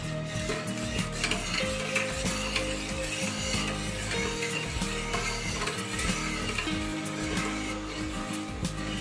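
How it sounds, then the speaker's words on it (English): Palkova mixture being stirred in a pan as it thickens, with rhythmic repeated scraping strokes over a soft continuous sizzle, close and steady with no voices. "You need to stir it a lot until it gets thick"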